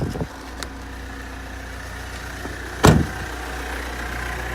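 The 2014 Mitsubishi Triton GLX's engine idles steadily with a low, even hum under the open bonnet. A brief louder burst rises once near the end.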